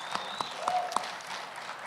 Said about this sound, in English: let's give a round of applause for James for the good job he's done